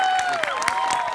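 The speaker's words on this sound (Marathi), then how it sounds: "प्रचंड टाळ्या" Studio audience clapping on a Marathi comedy show, scattered claps and crowd noise mixed with a sustained musical tone that glides in pitch, fairly loud throughout.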